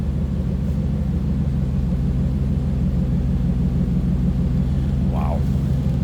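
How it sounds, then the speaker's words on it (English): A 1998 Chevrolet Silverado K1500 extended cab with an aftermarket exhaust rumbles at a steady idle nearby, a constant low, even drone with no rise in revs. "A little different exhaust in this, and it sounds good."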